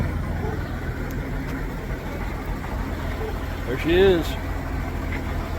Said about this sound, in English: I hear a little bit of rattling. Might be from the engine.